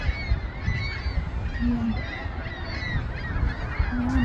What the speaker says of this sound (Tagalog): nagkakagulo yung mga ibon